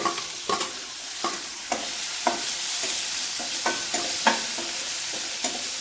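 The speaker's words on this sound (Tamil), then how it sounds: "இப்போ நல்லா வெங்காயம் வதங்கிடுச்சு" Onion, curry leaves and crushed garlic sautéing in a pan, a constant close sizzle punctuated by rhythmic spatula scrapes and taps against the pan.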